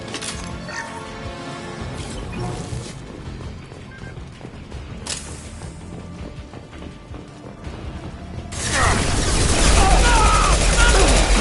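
Gunfire in the video game Mass Effect 2: scattered shots and clatter under voices give way to a loud, sustained roar of massed weapons fire near the end.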